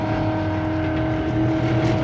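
Race car on a hot lap at Podium Club track, heard from onboard as a steady, loud droning engine note with strong harmonic tones holding nearly constant, no voices.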